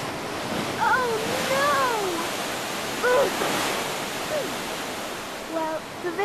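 A river rushes in a steady broad roar, close and loud, while a voice speaks in rising and falling tones over the water.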